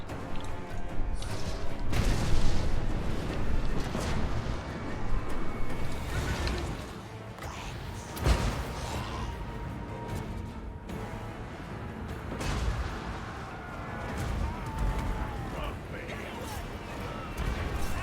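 Mortar fire in a Pirates of Sartosa campaign battle: booming impacts and crashes scattered through a dense, continuous battle din, with voices talking over it throughout.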